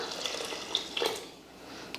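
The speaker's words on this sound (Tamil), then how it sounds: "குழம்பு எந்த அளவுக்கு தேவைன்னு பார்த்துட்டு தண்ணி ஊற்றிக்கலாம்" Water is poured into a village-style Tamil fish curry (meen kulambu), a light splashing, gurgling pour that rises and fades over a couple of seconds, close by and unaccompanied by talk.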